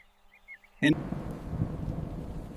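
A sudden sharp thunderclap cracks after a quiet moment, then settles into a steady, dense hiss of heavy rain that continues to the end.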